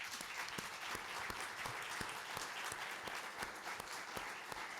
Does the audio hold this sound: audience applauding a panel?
yes